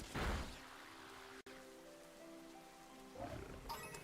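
Steady rain falling in a water area of a Pokémon video game, a constant hiss running throughout with a brief dropout partway through.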